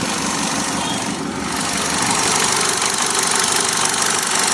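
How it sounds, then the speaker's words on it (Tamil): A 2009 Hyundai i10 Magna automatic engine idles close by with a steady, smooth running hum and a fine rhythmic knock throughout. "இன்ஜினோட சவுண்டு பாருங்க, ரொம்பவே ஸ்மூத்தாக இருக்குது."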